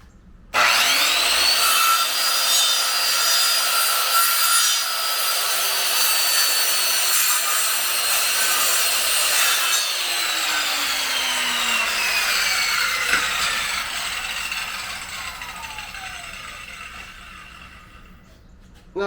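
Steady back-and-forth sawing through wood, loud and close, running continuously for most of the clip before tapering off near the end.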